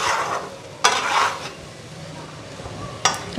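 Spices frying with potato and cauliflower in a home kitchen pan: a steady soft sizzle under stirring, with two sharp clinks of a utensil against the pan.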